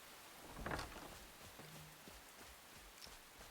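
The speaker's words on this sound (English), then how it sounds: "And it's raining, and the sun's going down" Rain patters faintly and steadily in the video game Enshrouded, a quiet continuous hiss with a soft low rumble and a few scattered knocks, and no talk over it.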